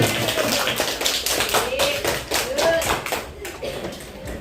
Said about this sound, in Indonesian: beri tepuk tangan untuk Pania.